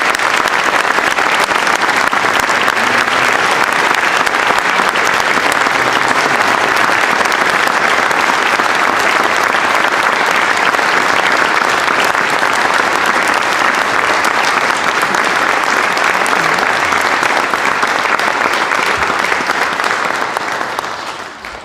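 Sustained, loud audience applause fills a concert hall for the seniors at a spring instrumental concert, steady broadband clapping lasting about twenty seconds before tapering off at the end.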